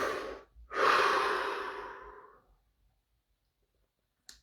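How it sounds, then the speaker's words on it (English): A single deep breath taken during a meditative scanning session: a short inhale, a brief pause, then a long, slow exhale that fades away, close and alone, with a faint click at the end. "And 2 is take deep breaths."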